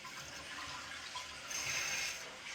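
Water rushes steadily into a newly installed toilet as its supply is turned on, a continuous faint hiss of filling with no talk.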